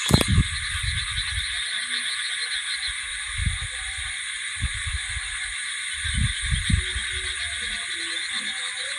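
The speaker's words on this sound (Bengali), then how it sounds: "ঝিঝি পোকা আর কী কী যে সব পোকাতে ডাকছে" Dense, continuous high-pitched buzzing chorus of crickets at night, with faint low thumps and rustles nearby.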